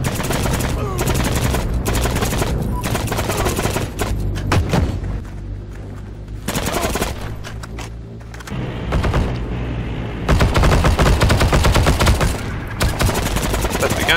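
A PPS-43 submachine gun fires in the World War II shooter game Heroes & Generals, loud and close, in repeated rapid bursts separated by brief pauses.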